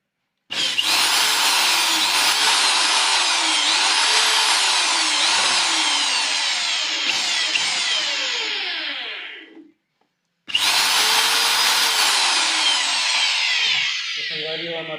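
A repaired electric drill runs at full speed with a loud, high whining buzz for about nine seconds. It cuts out briefly, then starts up again and runs to the end.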